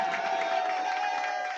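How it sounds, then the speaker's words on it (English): A crowd cheers and applauds at a cricket tournament, a short, steady swell of voices held at an even level throughout. "So a big cheer for Mahesh as well."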